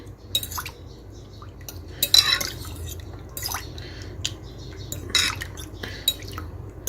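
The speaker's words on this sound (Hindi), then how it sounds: "पानी के अंदर थोड़ा सा विनीगर ऐड करेंगे और इसको मिक्स कर दूंगी।" Water and vinegar stirred with a spoon in a bowl for soaking goat liver, with scattered close metallic clinks and scrapes over a soft, quiet wash of liquid.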